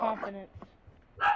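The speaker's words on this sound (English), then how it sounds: "Sorry about my dog in the background." A dog barks in the background of a home recording during online Call of Duty Black Ops 2 play, a couple of short yips under a person's speech.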